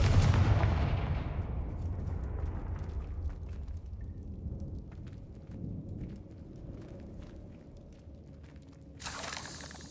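A Confringo blast spell explodes in Hogwarts Legacy, one loud booming burst up front that rolls off into a long rumbling decay, with a brief sharp noise flaring near the end.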